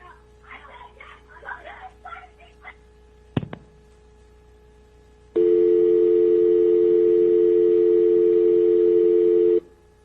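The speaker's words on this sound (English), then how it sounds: "The remaining time on that audio will just be a dial tone" A loud, steady telephone dial tone holds for about four seconds, after a muffled voice and a sharp click.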